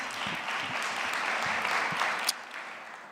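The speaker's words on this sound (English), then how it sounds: "I think a Prof requires another round of applause" An audience applauds a professor at a Women's Month celebration, a steady, dense wash of clapping from a crowd that carries on without a break and swells briefly near the end.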